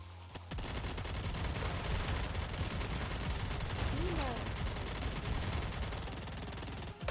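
Rapid sustained gunfire from the Nikke: Goddess of Victory shooter game, a dense automatic-weapon stream running nearly the whole time at moderate level with game effects layered over it.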